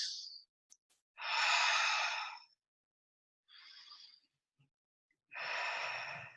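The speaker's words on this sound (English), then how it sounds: "breathing in through the nose, out through the mouth, which is a grounding breath" Grounding breaths drawn in through the nose and let out through the mouth: a slow inhale, a brief pause and a long, airy exhale, repeated a few times, close and alone with no talking.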